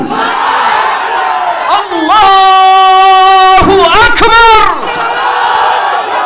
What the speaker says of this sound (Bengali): আর একটা নারায় তাকবীর মাঝখানের ভাইরা দেন সামনের ভাইরা দেন